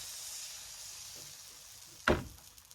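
Butter dropped into a hot pan for making samosa sheets gives a sudden sharp sizzle after a quiet stretch of faint hiss, then fades.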